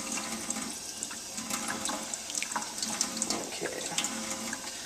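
Water pours steadily onto dry soil in a seed tray, a soft continuous splashing and trickling close by with small gurgles and no talk over it.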